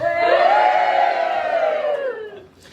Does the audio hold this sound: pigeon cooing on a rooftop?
no